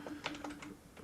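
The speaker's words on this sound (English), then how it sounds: "let's kind of start typing here" Typing on a computer keyboard, a quick run of light, close clicking keystrokes with no voice over them.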